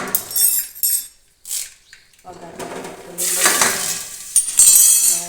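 Asafoetida dropped into a hot tempering of mustard seeds and cumin, with sharp bursts of sizzling and spluttering alongside clinks of a utensil against the pan, rising louder toward the end.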